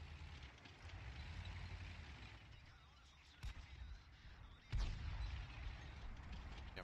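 Tank battle in World of Tanks: a low rumble of engines and distant fire, broken by two heavy cannon booms, the second louder and closer, with no talk over it.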